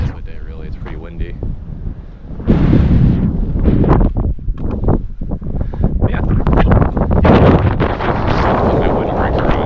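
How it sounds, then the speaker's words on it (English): Strong wind buffeting the microphone on Bird Ridge, a mountain ridge, in rough, gusty rumbling bursts that grow louder partway through, with a brief word spoken early on. "It's pretty windy."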